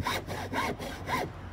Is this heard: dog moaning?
no